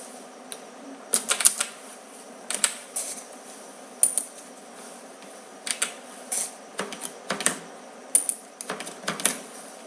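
Hindi text being typed on a computer keyboard, with irregular bursts of close, crisp key clicks separated by short pauses over a quiet room.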